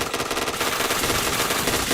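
Rapid automatic gunfire from the online shooter game Point Blank, a dense continuous burst of shots rattling loud and close throughout.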